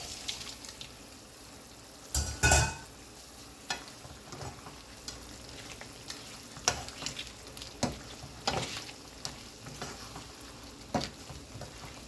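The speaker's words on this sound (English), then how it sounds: "Now I'm gonna add my shrimp to it." Shrimp frying with onions in a pan, a soft steady sizzle with scattered clinks and scrapes of stirring, one louder clatter early on, fairly quiet and without talk.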